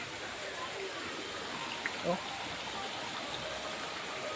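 A stream flows steadily at an outdoor nature spot near Marilog, Davao City, as a soft continuous hiss of running water, with a brief voice exclamation and a small knock partway through.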